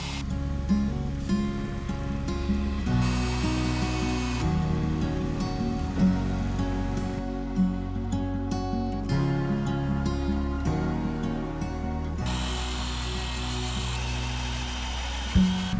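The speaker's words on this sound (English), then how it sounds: "the auger bit is drilling just as smooth as it did the first drill" A steady, loud drill with an auger bit grinds continuously into a wooden railroad tie, its motor pitch shifting every few seconds as the bit bites and eases, with no voices.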